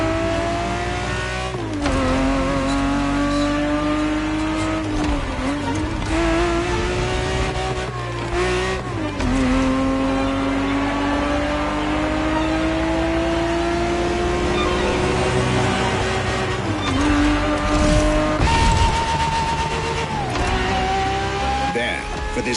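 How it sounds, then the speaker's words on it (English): A Ferrari 365 GTB4 racing car engine in a video game: sustained, loud engine tone that climbs and drops through repeated gear changes, with a voice talking over it. "365 GTB4 is the perfect vehicle for you to experience Ferrari racing as it felt back in the 70s"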